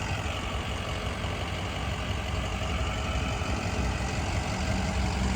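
A 2005 Ford Excursion Eddie Bauer 4x4 with a 6.0L Powerstroke diesel V8 idles steadily, a low continuous rumble at moderate distance, unchanged throughout with no voices.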